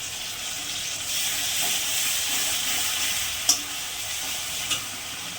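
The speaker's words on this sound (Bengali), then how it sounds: "পেঁয়াজটা ভাজা ভাজা হয়ে গেছে, এবার রসুন আর লঙ্কা বাটাটা দিয়ে দিই।" Chopped onion fries in a pan as garlic and chili paste go in, producing a loud, steady close-up sizzle and hiss with a couple of sharp clinks from stirring, with no talk.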